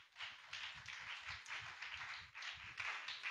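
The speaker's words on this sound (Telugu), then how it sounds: "కొట్టు చప్పట్లు గట్టిగా." A church congregation claps hands loudly and in rhythm, a dense run of sharp slaps repeating steadily throughout at close range.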